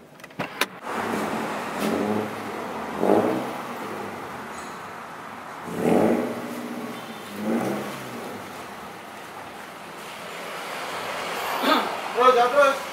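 A car engine revving through its aftermarket exhaust, several rises and falls in roar spread over the stretch, moderately loud, with talk running underneath.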